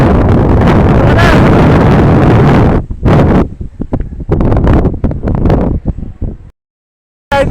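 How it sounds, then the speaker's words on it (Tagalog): Strong outdoor wind buffets the microphone with a loud, roaring rumble for the first few seconds, then returns in choppy gusts separated by brief lulls and a moment of silence. "Dito, hinahangin"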